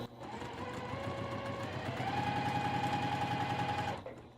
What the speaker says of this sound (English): I'm gonna go ahead and just run this through the machine.